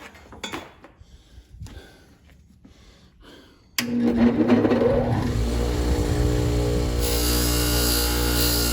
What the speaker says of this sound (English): I buff them on the buffing wheel.